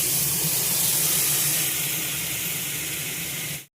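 Tomatoes fry with spices in a pan, giving a loud, continuous close-up sizzle and hiss that carries steadily for over three seconds, then cuts off abruptly.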